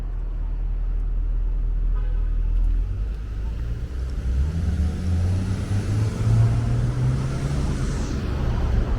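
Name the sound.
steady street traffic with car horns on Yonge Street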